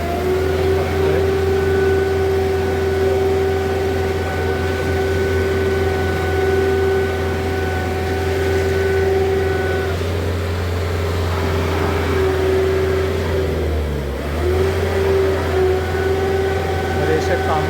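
A concrete mixer truck engine runs steadily at a road concreting site, a constant low rumble and droning whine, dipping briefly midway before resuming, while someone talks over it.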